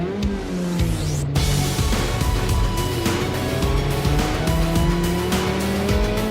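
A rented car is driven hard around a race track in Japan, its engine revving loudly and steadily while tires squeal and skid through corners, with no talking.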